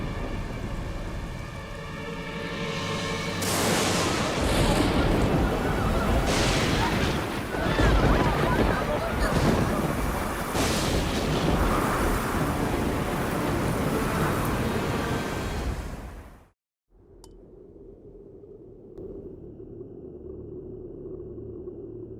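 A dense, roaring storm with heavy rushing rain and wind rumbles loudly for a long stretch, then cuts off abruptly to a quieter hum.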